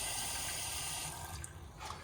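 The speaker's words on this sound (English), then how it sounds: "in order to draw water, you're going to want to pull this handle out" An RV toy hauler's kitchen faucet runs steadily as water pours into the sink, a close, constant hiss and splash that softens slightly partway through.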